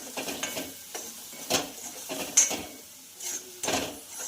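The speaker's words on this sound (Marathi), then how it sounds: "तेल सुटेपर्यंत आपल्याला फ्राय करायचं आहे" Chicken masala with turmeric and salt frying in a pan for a village-style dry chicken dish, heard as a soft crackle with several sharp scraping stirs of a utensil against the pan.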